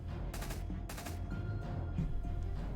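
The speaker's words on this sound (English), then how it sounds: "Sounds like a rifle." Gunshots from a firearm in The Walking Dead: Road to Survival mobile game, two sharp bursts close together near the start, over a steady game background hum and with no talking.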